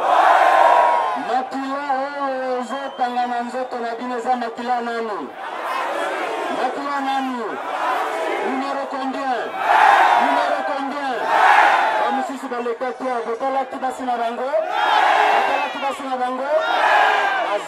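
Large outdoor crowd at a political campaign rally in Mahagi, cheering and shouting together in loud, swelling waves, with voices rising in repeated bursts and chanting-like calls throughout.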